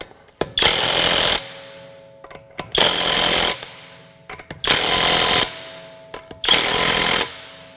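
A Kobalt 24-volt brushless mid-torque 1/2-inch impact wrench hammers in four separate bursts of about a second each, loud and close, tightening fasteners hand-tight with brief quiet gaps between runs.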